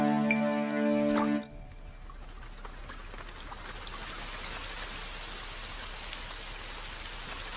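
Autumn rain in a cartoon, a steady, dense hiss of falling drops and patter after a brief tonal musical sound at the start. It stays close and even throughout.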